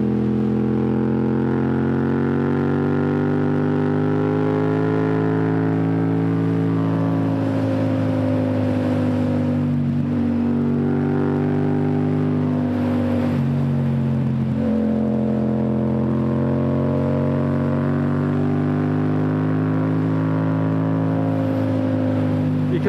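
A Yamaha MT-07 motorcycle engine pulling up a hill, a loud steady drone close by that wavers and dips briefly around the middle before settling again.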